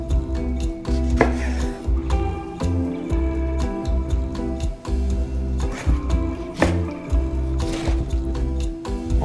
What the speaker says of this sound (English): Now I'm gonna chop my kimchi as well.